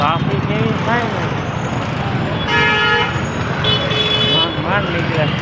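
Busy road traffic in Surat rumbles steadily while car horns honk in several loud bursts, with people talking over the din.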